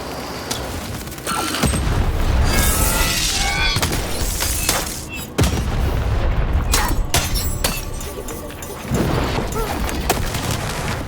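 Several cannons fire in the video game Lost in Random, with repeated loud booms, shattering crashes and debris in a dense, continuous barrage.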